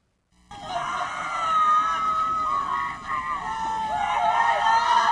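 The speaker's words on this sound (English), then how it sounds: "Screams of grief ripped the air as mortuary services officials attempted to lift the body of a man gunned down in the street" Anguished screams of grief from mourners at a street shooting scene, where mortuary workers lift a man's body; a loud, sustained wailing voice rises and falls continuously after a brief silent start.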